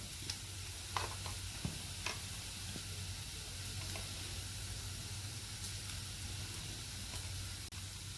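Onion and tomato masala sizzles steadily in a pan as turmeric and other spice powders are added, with a constant close frying hiss and a few light stirring clicks and taps.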